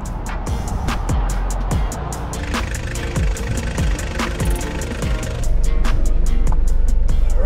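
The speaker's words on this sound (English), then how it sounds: "I'm about to test drive the van" A van on a test drive gives off a close, steady engine rumble with rapid, regular knocking pulses, and the sound grows louder and fuller toward the end.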